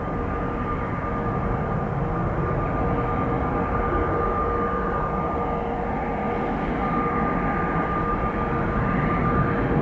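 Jet engines of an Airbus A320ceo with enlarged winglets roar steadily and loudly at Dublin Airport, a broad continuous rumble with a faint steady whine running throughout.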